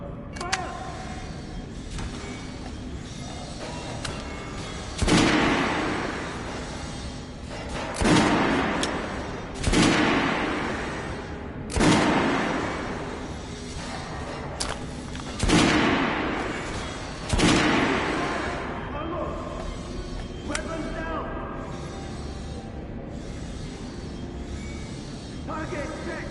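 Repeated gunshots on a shooting range in the Metro Last Light video game, about seven sharp loud reports spaced a few seconds apart over a steady background hum, with voices shouting orders between shots.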